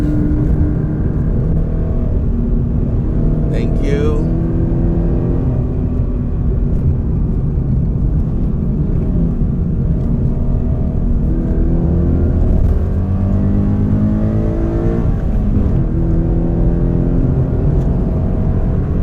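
A Toyota GT86 on a Genting hill climb gives a steady, loud engine drone that rises and falls as it pulls through the gears, with a brief voice near the end.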